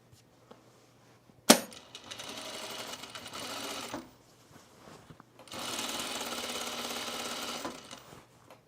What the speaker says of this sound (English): I'm going to put a little line of stitches here